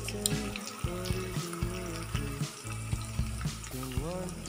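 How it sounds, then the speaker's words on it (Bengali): Green chilli and cumin paste with turmeric fries in a pan for muri ghonto. A steady sizzle runs under a prominent tonal, music-like sound with sustained pitches and short breaks. "খুব ভালো করে ভাজতে হবে।"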